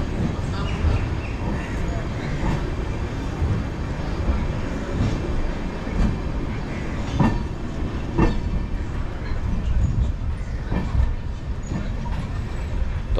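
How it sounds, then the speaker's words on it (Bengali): Kanchanjunga Express train 13175 pulling away, with a low steady rumble and regular clickety-clack beats of wheels over rail joints, heard from on board with a voice talking over it. "13175 কাঞ্চনজঙ্ঘা এক্সপ্রেস ছেড়ে দিল।"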